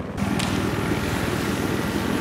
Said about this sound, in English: Hostile helicopter has been spotted in your area